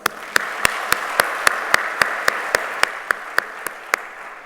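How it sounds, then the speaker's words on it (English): At a business summit, a round of applause is heard as rhythmic, evenly spaced sharp claps over a soft wash of clapping from a crowd, steady and fairly close. "Let us take a moment to acknowledge this with a round of applause."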